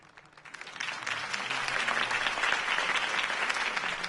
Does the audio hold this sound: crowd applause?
yes